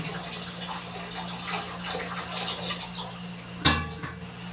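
Water running and splashing steadily while a dog is bathed, a low continuous flow with a brief louder splash near the end, no talking.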